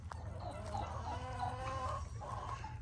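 Chickens clucking and murmuring close by while being fed a treat, a busy overlapping chorus of soft clucks and calls over a low background hum.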